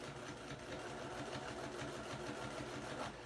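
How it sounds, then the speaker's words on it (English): A serger stitching the binding seam on a quilt runs in a steady, fast mechanical whir with a rapid even rhythm, close and continuous, with no talking. "Okay, I'll do part of this seam."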